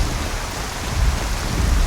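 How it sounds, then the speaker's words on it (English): Steady heavy rain hissing down with low thunder rumbling underneath during a thunderstorm in the video game Skyrim. The downpour stays loud and continuous throughout, and the rumble swells toward the end. "very stormy."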